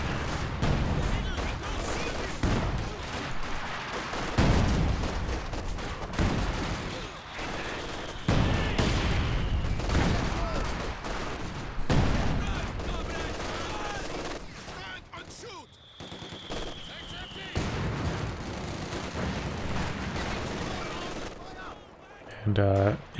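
In a Company of Heroes 2 battle, light machine guns mounted on Grenadier infantry rattle in long bursts amid dense, continuous gunfire and explosions, loud and close.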